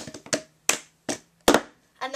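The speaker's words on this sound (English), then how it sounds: "After that, you're going to clap one more time and pick up the cup and put it right back down." Cup song rhythm of hand claps and cup hits, several sharp close percussive strikes spaced unevenly with brief gaps, with a voice faintly present between beats.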